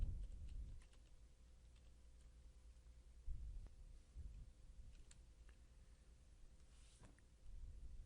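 A few faint, soft keystrokes on a computer keyboard, spaced apart in a quiet room as someone types GDP into a search box.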